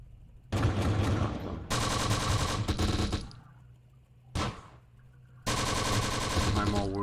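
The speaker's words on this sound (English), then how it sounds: "they're getting shot by machine gun fire" Machine gun fire in the Close Combat: The Bloody First war game crackles in long, loud sustained bursts separated by short quiet gaps, four distinct strings of rapid shots, with no talk over them.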